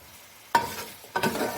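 Chicken frying in ghee with ginger garlic paste, two short bursts of stirring and sizzling with a quiet pause between them.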